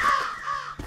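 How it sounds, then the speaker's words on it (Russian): A crow gives a single harsh caw in the horror video game In Silence, close and fairly loud, followed by a short soft thump. "А, это грёбаные птицы были."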